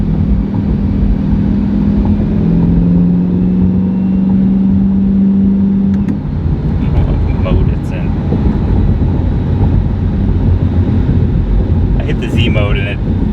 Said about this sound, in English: these cars, they sound pretty cool with that kind of exhaust just because it's so short